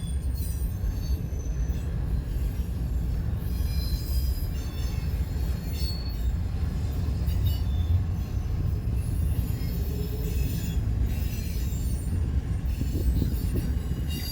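A long freight train loaded with 40-foot containers rolls past heading east in Fremont, Nebraska, with a loud, continuous rumble of wheels on rail, steady clatter and intermittent high wheel squeal.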